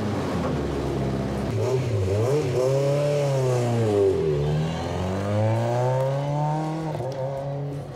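A 235-horsepower Skoda Fabia S1600 RX rally car engine fires up and revs, loud and close, rising and falling through several sweeping revs over a steady throbbing idle.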